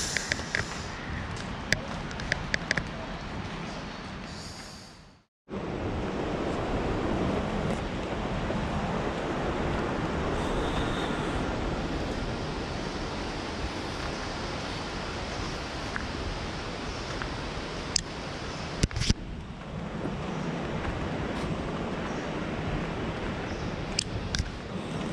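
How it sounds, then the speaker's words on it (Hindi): Water gathered on leaves falls through a forest at a riverside resort in Dandeli, making a dense, continuous rain-like patter. The sound cuts out briefly near the start, with scattered sharper drips throughout. "ये ऊपर से जो पत्तों पे पानी इकट्ठा होता है वो गिर रहा है नीचे"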